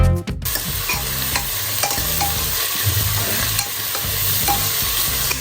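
Sliced onions sautéing in a pressure cooker for chicken curry, a loud steady sizzle with repeated scraping strokes of a spoon against the metal pot, opening with a sharp clank.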